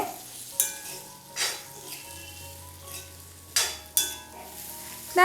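Green beans for a Kerala mezhukkupuratti stir-fry sizzle steadily in a pan, with a few sharp scraping stirs of the spatula cutting through the frying hiss at irregular intervals.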